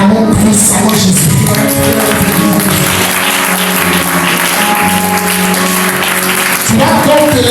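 A church congregation at a Sunday service applauding, loud sustained clapping from a large crowd with tonal music and voices mixed underneath.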